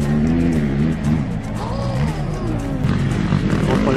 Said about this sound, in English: That's a 4-stroke.